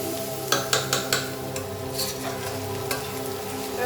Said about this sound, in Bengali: আদা রসুন বাটা দিয়েছি তো তাই আমাদের মাঝে মাঝেই নাড়তে হবে যাতে লেগে না যায়